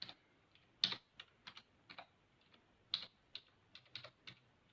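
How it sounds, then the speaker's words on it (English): Keys clack on a computer keyboard in irregular, separate taps and short bursts, close and fairly quiet against a near-silent background. "I just typed that right."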